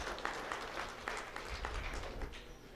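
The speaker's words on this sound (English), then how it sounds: "help me in giving these juniors a big round of applause" Audience applauds junior exhibitors at a Brown Swiss cattle show, a faint, steady patter of many hands clapping in a large arena.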